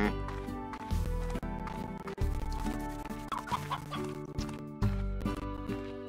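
Hens cluck steadily in the video game Slime Rancher, their repeated clucks layered over continuous game music with no pauses.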